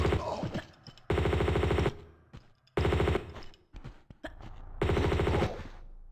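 Weapon fire in Tomb Raider II, three loud bursts of rapid automatic shots separated by short pauses, close and dominant.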